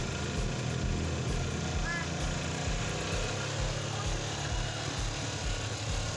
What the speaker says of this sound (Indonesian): RPM disetel tinggi lur, biar sedotannya semakin kencang, semakin dahsyat.